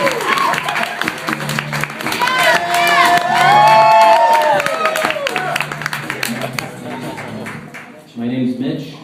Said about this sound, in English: give a warm round of applause for Mitch Timmons